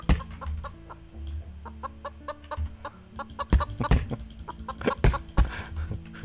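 A video game chicken clucks and squawks angrily as it gets hit with an axe, in a rapid run of sharp, loud bursts under a steady melodic background.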